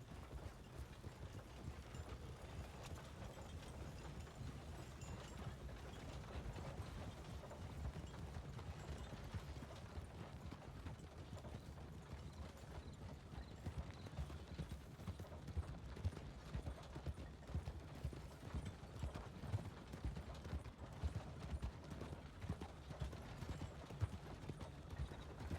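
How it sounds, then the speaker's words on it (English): A single horse's hooves clip-clop steadily in a video game, a soft, even stream of beats that grows slightly louder and nearer over time beneath low background rumble. "Looks like we got one horse approaching telegrams right now."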